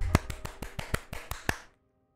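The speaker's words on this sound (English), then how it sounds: "A round of applause" A short burst of about nine sharp, separate claps sounds in a Genshin Impact cutscene, each one crisp and close, before the sound cuts to silence.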